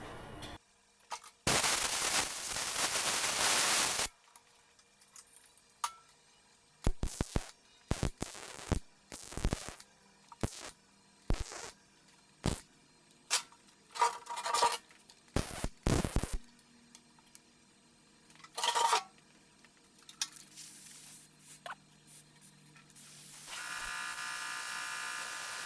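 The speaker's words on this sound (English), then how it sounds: "Now, let's start welding." A welder works on a rebuilt car fuel tank in quick repeated bursts, a long crackling run at the start followed by many short sharp zaps with gaps between, and a low hum near the end.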